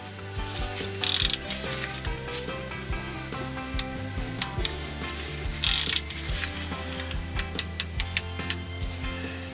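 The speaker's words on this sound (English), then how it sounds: "They work with a 1/2-inch drive socket wrench. And once you get it around the filter in position like so," A 1/2-inch drive ratchet socket wrench clicks repeatedly as it turns an oil filter wrench on a tight oil filter, with quick bursts of ratcheting and sharper metallic clacks over a mechanical background, no talking.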